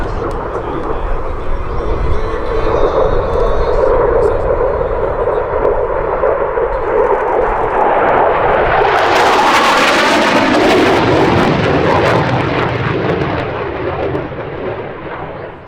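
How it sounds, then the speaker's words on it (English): An F-16 fighter jet makes a dedication pass flyby at EAA AirVenture Oshkosh 2018, a loud jet roar building steadily, peaking in a harsh broadband blast as it passes close overhead, then trailing off. "the F-16 Rifle Demonstration Team proudly presents the dedication pass"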